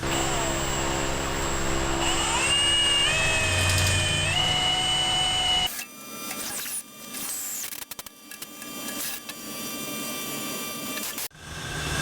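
A power drill drives self-tapping sheet metal screws while mounting a relocated fuel tank on an F100, a rising whine of the motor for several seconds, then a series of short bursts with pauses in between.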